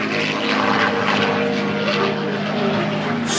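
Propeller airplane flying at an air show in Tennessee, a World War II and post-war era aircraft, its steady engine drone loud and continuous throughout under an announcer's voice over the public address.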